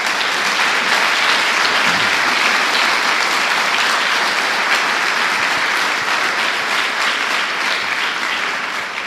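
Congregation applauding during a church sermon, a loud, dense and steady wash of clapping sustained without a break.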